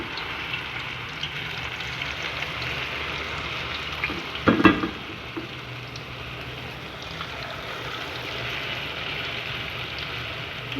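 Lachha pakoras deep-fry in hot ghee, a continuous soft bubbling sizzle close by, broken midway by a brief louder clatter and splash before settling back to an even fry.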